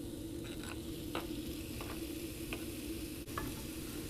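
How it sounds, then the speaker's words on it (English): Chicken pieces dry-fry in a pan without oil or butter, giving a quiet steady sizzle with scattered soft scrapes as the pieces are moved around. "You're going to dry fry this. No oil or butter or anything."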